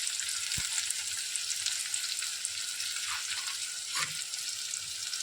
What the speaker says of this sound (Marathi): चांगलं असं मिक्स करून घ्यायचं नरम होईपर्यंत कांदा परतत राहायचा